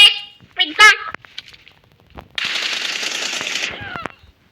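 Gunfire in the mobile battle royale game PUBG Mobile, a sustained rattling burst of automatic fire following some talk and short game sounds, ending with a few isolated shots.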